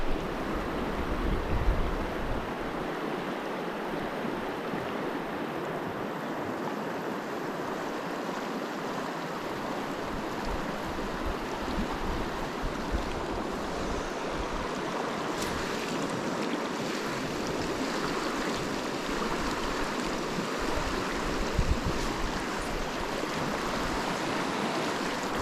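Flowing water of a Colorado trout river runs as a steady, broad wash that holds an even level throughout, with no voices over it.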